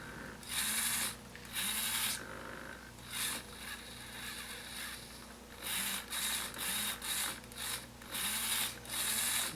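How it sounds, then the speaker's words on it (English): A small hobby servo driven by an Arduino through a potentiometer whirs in repeated short mechanical bursts with brief pauses between them, close and fairly loud, with no talking. "We have control of that servo now."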